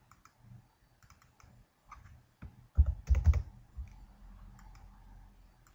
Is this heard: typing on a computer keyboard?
yes